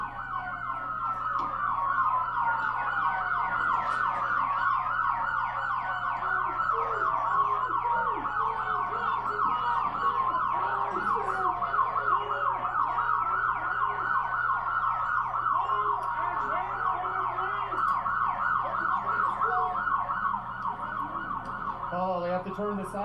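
Police sirens wail through a street protest, their sweeping tones steady and loud across the whole stretch beneath dense crowd noise and scattered voices.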